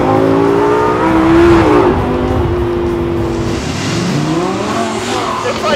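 A 2013 Lamborghini Gallardo's engine sounds loud and close while driving, its tone rising and shifting as it revs and changes gears, with some road roar underneath.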